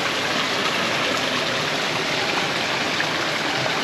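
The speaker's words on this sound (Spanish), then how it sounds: "inclusive recrearon o crearon como una especie de cascada" An artificial indoor waterfall inside the Amazon Spheres conservatory in Seattle gives a steady, dense rush of falling water that stays loud and even throughout, with no voices.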